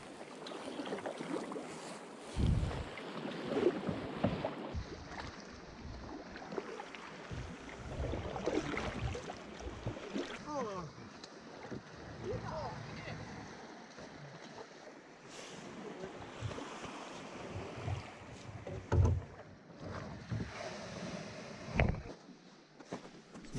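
Canoe paddling through waves on Lake Superior's northern coast in early spring just after ice-out, with irregular splashes and water wash under steady wind, plus occasional short spoken exchanges.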